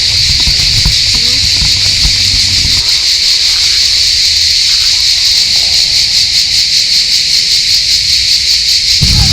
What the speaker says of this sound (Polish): Ale jak tutaj skrzeczą cykady.